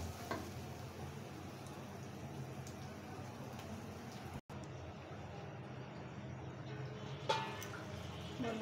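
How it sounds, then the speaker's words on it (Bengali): Rice frying in a pan for chicken pulao, a steady broadband sizzle with small scraping stir sounds, continuous and fairly close, with a brief dropout midway and no talking. "এখন আমি চালটা খুব সুন্দর করে ভেজে নেব"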